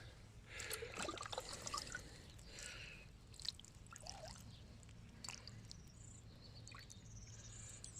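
Water trickles and drips irregularly close by, with soft splashes and gurgles over a quiet background.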